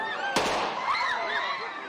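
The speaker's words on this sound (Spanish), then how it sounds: "el sonido de disparos y gritos se apodera de las calles de Ucrania" A single sharp gunshot-like crack rings out in the streets of Kyiv, followed by raised voices and faint cries against a low background hum.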